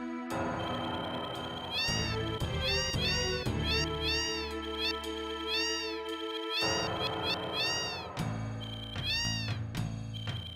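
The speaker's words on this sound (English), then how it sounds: "Cats." Several cats in the video game Final Fantasy VII meow again and again over about ten seconds, with clear, repeated, rising-and-falling cries over steady background music and no voices.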